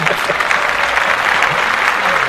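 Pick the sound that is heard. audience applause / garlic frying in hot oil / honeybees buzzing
audience applause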